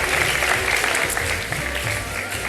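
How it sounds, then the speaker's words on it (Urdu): Studio audience applause on a live Ramadan iftar quiz show after a correct buzzer-round answer, steady and fairly loud across the whole short stretch, with faint voices underneath. "تالیاں بجا دیجیے"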